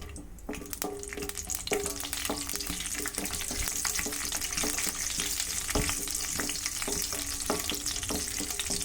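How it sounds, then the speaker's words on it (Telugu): Almonds, raisins and cashews fry in a pan, giving a steady soft sizzle broken by scattered clicks and light scraping taps of stirring, moderately quiet and without talk. "ఫస్ట్ బాదం పప్పు కిస్మిస్ జీడిపప్పు వేయించి పెట్టుకుందాం."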